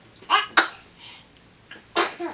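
A small child sneezes a couple of times, short sharp bursts with faint breathy sounds between, close by in a quiet room.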